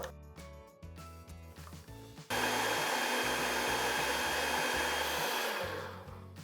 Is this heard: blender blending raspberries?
yes